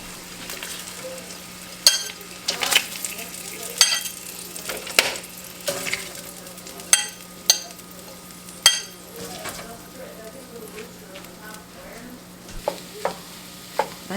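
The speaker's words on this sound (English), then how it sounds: "I'll let that just continue to cook slowly" Hominy scrambled eggs cooking slowly in a pan, with a steady soft sizzle broken by repeated scraping stirs and light utensil taps at close range.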